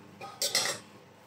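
Egg noodles are stirred in a pan, giving a brief burst of metal utensil scrapes and clinks against the cookware, a few quick strokes at close range.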